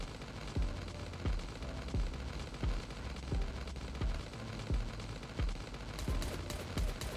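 An automated turret in the video game Last Day on Earth firing at a man: a steady run of evenly spaced shots, about one every half second, with a sharp burst of clicks at the end.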